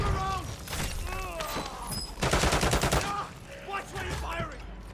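Rapid automatic gunfire bursts in the video game Call of Duty Warzone, loud close fusillades mixed with game sound effects, while players talk over the shooting.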